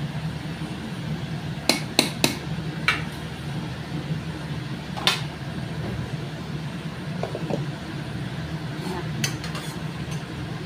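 Rice being served onto a plate at home: a few sharp clinks of a spoon against a dish early on, one more a bit later, and soft scraping over a low steady background hum.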